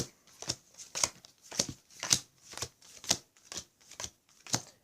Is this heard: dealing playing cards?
yes